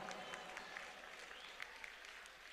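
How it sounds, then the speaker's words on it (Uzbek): A wedding crowd claps steadily in a dense, even burst of applause, faint and somewhat distant, with no voices standing out. "Bitta chiroyli qarsak bo'lsin yana ustozlar uchun."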